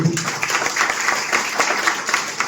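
A seated audience claps in dense, continuous applause at a business plan presentation, loud and close throughout with no break.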